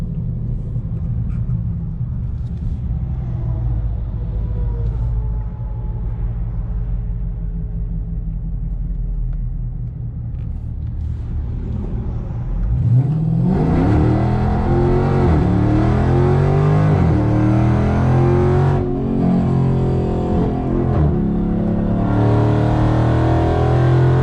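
A car in sport mode on Nitto NT555 G2 tires launches on a quarter-mile run, a steady low idle rumble giving way to a loud, rising engine roar through several gear changes, with a brief tire spin, no talk.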